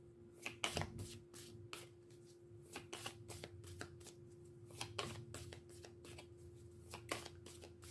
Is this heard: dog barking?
no